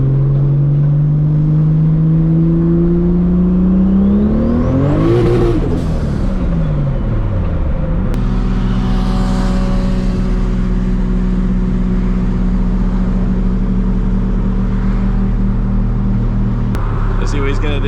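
A 1000HP Toyota Supra on drag radials accelerates hard on the street, a loud close engine roar climbing sharply in pitch through a gear, then a sustained heavy drone as it pulls away.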